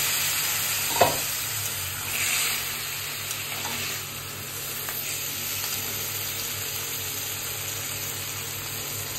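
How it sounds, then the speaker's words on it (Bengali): Fried fish head sizzles in a pan as boiled Malabar spinach and potato are added, a steady soft crackle with a couple of sharper stirring knocks, close and alone. "মাছের মাথা ভাজা হয়ে গেছে, এরপর আমি দিয়ে দিচ্ছি সেদ্ধ করে রাখা পুঁই শাক আর আলু।"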